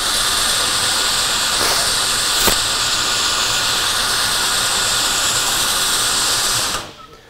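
Norton Mesh abrasive on a floor sander with dust pickup, a steady loud broadband whir and hiss that holds without break, with one brief knock midway, then stops abruptly near the end.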